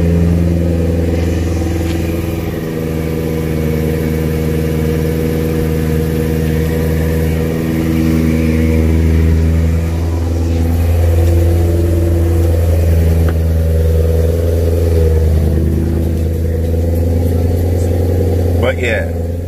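An ESS G1 supercharged BMW E92 M3 running E20 fuel idles steadily during warm-up, a loud, close, even engine drone with slight pitch shifts.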